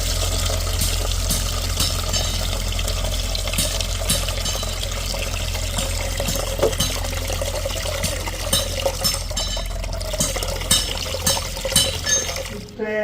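Water poured to soak urad dal in a home kitchen, a continuous splashing, trickling flow with small clinks of a vessel, loud and near, ending in a few scattered knocks, while someone talks over it.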